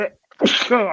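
A single sharp sneeze from a person with hay fever, a short intake followed by a forceful burst, close and loud.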